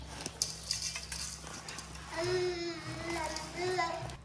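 Jhalmuri of puffed rice with sprouted chickpeas, chopped coriander and fried peanuts is mixed by hand in a bowl at home, giving soft scraping and light clinks, with a voice speaking through the second half.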